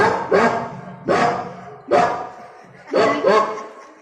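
Students in a school stage play of the story Poos Ki Raat imitate a dog barking at nilgai in a field, voicing four loud, evenly spaced barks in quick succession.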